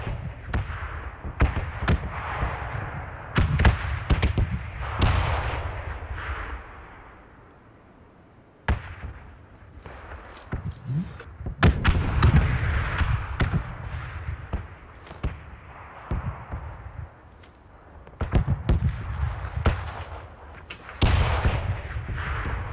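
Gunfire and explosions in the battle royale game PUBG: loud, sharp bangs and cracks in irregular bursts, some rapid and clustered, with short lulls between volleys.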